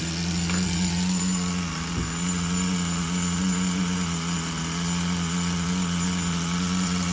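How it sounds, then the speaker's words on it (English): A Tamiya TGS-R nitro RC car engine holds a loud, steady, high buzzing drone nearby while it is being cleared out, with only a slight dip in pitch early on. "Trying to see if we can clear this engine out a little bit."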